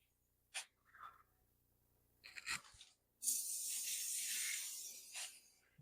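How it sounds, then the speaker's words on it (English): After a few faint clicks and rustles, a coconut oil cooking spray hisses in a steady, close burst lasting about two seconds, then a short puff follows. "you can use cooking spray, and you can just spray it on top like so"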